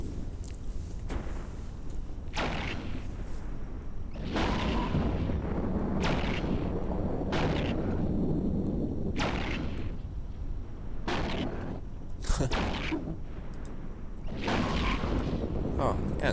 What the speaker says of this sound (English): then he's shooting missiles at us